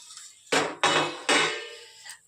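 The lid of a cooking pot is lifted off during a mushroom masala recipe, giving three loud metallic clanks spaced about half a second apart, each ringing briefly before fading, then a faint final tap.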